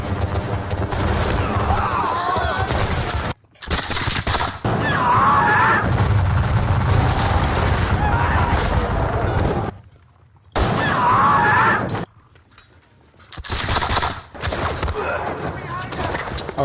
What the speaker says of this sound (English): we've softened them up with a volley fire